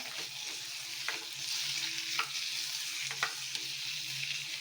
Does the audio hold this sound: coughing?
no